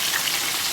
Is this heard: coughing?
no